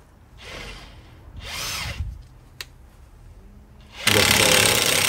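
Power tool tightening the drive shaft nut on a Nissan Qashqai during a CV boot and brake job: two short whirring bursts, a sharp clack, then a loud sustained rattling buzz at the end, close by.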